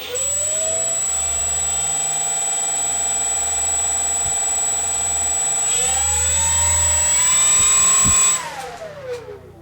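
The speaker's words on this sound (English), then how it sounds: "let's give a little throttle, see how that motor sounds" A 4S brushless electric motor on an HSD Zero Fighter 1100mm RC warbird whines steadily and loudly up close, rising in pitch as the throttle opens, then abruptly winding down and cutting off near the end.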